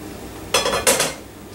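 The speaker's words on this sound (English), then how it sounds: "Now it's time to actually turn off the heat and remove the lid." A metal lid lifted off a hot water-bath canner pot after jam processing: two close, bright metallic clanks about a third of a second apart, then quiet.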